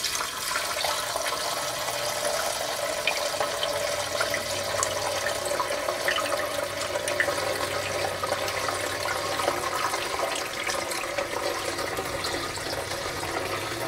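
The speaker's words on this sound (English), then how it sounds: "So this is the first time I've put fluid in this tank." Fluid is poured into the two-gallon tank of a log sawmill, a continuous splashing, gurgling stream. It stays fairly loud and steady throughout with no talking.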